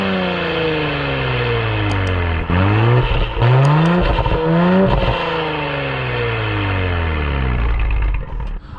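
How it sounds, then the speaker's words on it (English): A 2018 Audi SQ5 with a 3-liter turbo V6 idles, then its engine is revved in three quick, loud blips that rise and fall before settling back to a steady idle, heard close with no talking. "I actually want you guys to hear this exhaust note."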